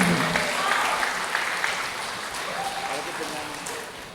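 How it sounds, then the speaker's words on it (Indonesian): Audience applause at an Indonesian education ministry gathering with teachers, a broad wash of clapping under a voice that carries over it, fading a little toward the end. "Boleh kita berikan tepuk tangan yang meriah"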